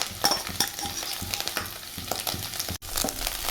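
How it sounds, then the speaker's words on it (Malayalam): Cooked beef pieces fry in a pan for homemade beef shawarma, giving a steady sizzle with repeated scraping and stirring clatters and a brief drop to near silence near the end. "ഈ വേവിച്ച് വെച്ചേക്കുന്ന ഇറച്ചി ഇട്ട് കൊടുക്കുകയാണ് അത് ഒന്ന് ഫ്രൈ ചെയ്തെടുക്കണം"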